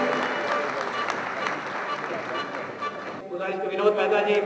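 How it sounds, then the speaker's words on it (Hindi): An audience at a seminar applauds with steady, dense clapping that fades out, followed by a voice speaking over the hall. "जोरदार तालियों से अभिवादन"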